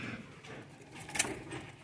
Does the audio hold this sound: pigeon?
yes